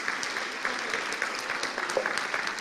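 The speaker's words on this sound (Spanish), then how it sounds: "démonos un aplauso" A church congregation at a Spanish-language sermon breaks into steady applause, a dense, even patter of many hands that stays continuous throughout without speech.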